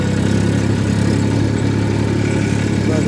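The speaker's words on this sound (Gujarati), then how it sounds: "આ ટ્રેક્ટર નવા મોડલને આવ્યા એટલે થોડુંક ગિયરમાં મને બહુ ફાવતું નથી" A new-model farm tractor idles with a steady, even low engine throb, close and loud, and no voices are heard.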